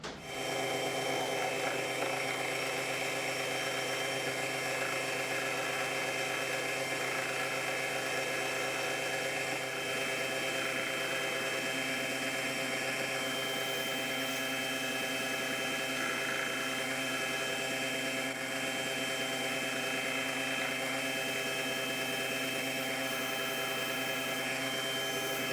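A lathe parting tool smoothing down a weld on a hydraulic cylinder rod during a repair, producing a steady, dense metallic grinding drone with constant machine hum that holds unbroken from start to finish.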